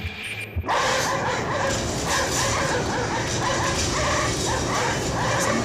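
Dogs barking at a ship in a video game, a steady run of repeated yips and barks over a dense, continuous game soundscape, loud and close throughout.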